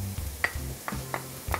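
Garlic frying with onions in a pan: a soft, steady sizzle punctuated by several sharp clicks and scrapes of stirring, close and fairly quiet.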